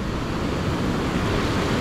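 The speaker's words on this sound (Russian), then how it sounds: "Волны просто огромнейшие." Large ocean waves breaking on a small, stony beach in Sri Lanka, a continuous heavy wash of surf with a wind rumble, steady and fairly loud with no voices.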